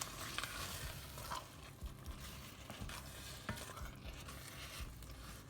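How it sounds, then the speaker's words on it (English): A utensil scrapes across the bottom of a pan of simmering beef brisket chilli, giving faint, steady scratching and stirring strokes over a soft bubbling sizzle. "I'm just scraping all that goodness from the bottom of the pan."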